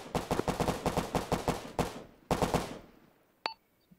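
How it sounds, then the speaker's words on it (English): Rapid automatic gunfire in the video game Arma 3, a fast string of about a dozen close shots, a short pause, a second burst tailing off, then one more isolated crack. "What are you firing at?"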